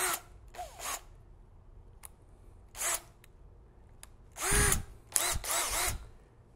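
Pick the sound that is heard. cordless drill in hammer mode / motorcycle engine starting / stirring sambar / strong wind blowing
cordless drill in hammer mode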